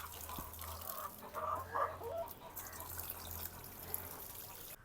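Chickens at a poultry farm cluck in scattered, overlapping calls over a low, steady hum, heard at a modest distance and fairly faint, with no talking.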